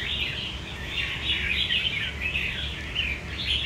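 Close, steady song from a red-whiskered bulbul (chào mào), a caged bird, pouring out continuous warbling, chirpy phrases at an even volume and heard alone.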